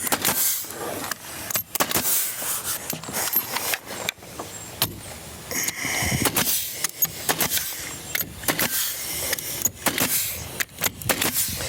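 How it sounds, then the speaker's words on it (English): Pneumatic nail gun driving small nails into exterior door trim during a double-door replacement, a series of sharp, close snapping shots scattered irregularly across the clip over a steady background hiss. "I do shoot the smaller nails closer together."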